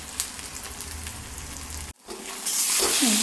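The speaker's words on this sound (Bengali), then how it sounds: "এটা একটু হালকা আমি লাল করে ভেজে নিব, যাতে রসুনের গন্ধটা চলে যায়।" Pointed gourd and garlic fry in a pan with a steady sizzle that breaks off briefly, then comes back louder and brighter, close up with no talk.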